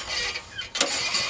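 A go-kart engine is cranked over to circulate freshly added oil, a brief churning whir with a sharper burst midway, close and fairly loud, no talking.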